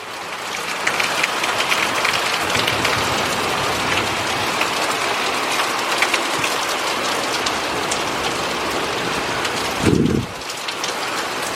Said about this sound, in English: Rain has calmed down now.